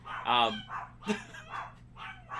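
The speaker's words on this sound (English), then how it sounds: "Sorry about the dogs barking" A dog gives a few short, sharp barks in quick succession nearby, with a single brief spoken word between them.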